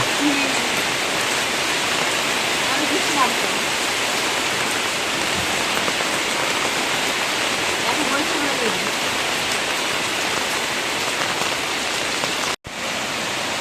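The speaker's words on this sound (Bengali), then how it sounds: "বৃষ্টি কিন্তু প্রচুর বৃষ্টি হচ্ছে" Heavy rain pours down steadily, a loud, unbroken wash of noise close by with only a brief cut near the end.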